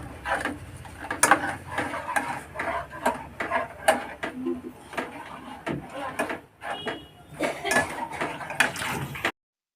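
A spoon stirs Konkani dahi kadhi, a yogurt curry, in a pot, making a busy run of metallic clinks and scrapes with short pauses, close up, while a voice can faintly be heard.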